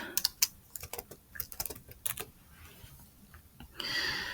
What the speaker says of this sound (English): as you can see when I was typing that